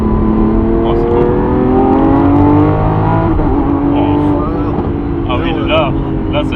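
A Lamborghini Aventador SVJ engine runs loud and close with a smooth, rising, harmonic drone that swells and settles, while people talk over it in French.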